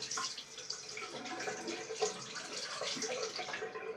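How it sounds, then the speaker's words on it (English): Running tap water splashes over a straight razor in a sink, a bright, steady hiss with small shifting splashes, close by and fairly quiet. "I prefer just to run it under the tap"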